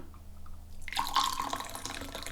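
Brewed Chinese green tea is poured out in a soft, steady trickle of liquid that starts after a second of near silence.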